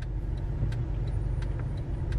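Steady road rumble and engine hum from inside a car stuck in traffic on Interstate 4, continuous and close with no talking, small faint ticks and knocks from the cabin.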